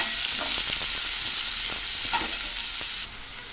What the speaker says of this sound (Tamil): கோல்டன் ப்ரௌன் வர அளவுக்கு நல்லா ஃப்ரை பண்ணிக்கணும் அதை